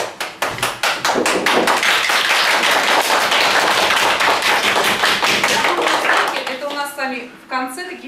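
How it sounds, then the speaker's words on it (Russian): A classroom of students and teacher breaks into rhythmic, rapid clapping that fills the room loudly for several seconds before fading, after which a voice speaks. "В конце такие финальные аплодисменты вам за ваш труд, за вашу работу."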